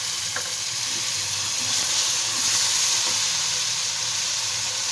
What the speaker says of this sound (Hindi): टमाटर और प्याज हमारा बहुत ही अच्छी तरह फ्राई हो चुका है